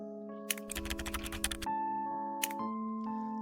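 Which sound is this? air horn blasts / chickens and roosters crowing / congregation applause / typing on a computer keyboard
typing on a computer keyboard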